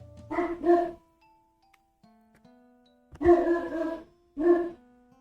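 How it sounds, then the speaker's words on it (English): Four loud dog barks nearby, two quick ones, a pause with faint tones, then two more spaced apart. "I hope y'all didn't hear my dog bark."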